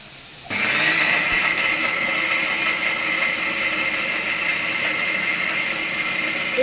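A mixer grinder switches on sharply and runs continuously with a loud, steady whirring whine while grinding masala for Madurai prawn thokku, without pausing to the end.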